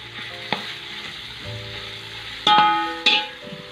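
Chopped green chillies hit a pan of cooked chicken for chicken macaroni and crackle in hot oil, with a close, steady sizzle and a few sharp metallic knocks from a utensil, while faint tonal background sound runs underneath.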